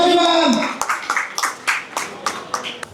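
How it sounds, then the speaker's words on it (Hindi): A burst of clapping from an audience at a Delhi Police officers' celebration meetup, sharp uneven claps after a brief spoken phrase, fairly close and lively. "जोरदार तालियां बजा दीजिए सभी।"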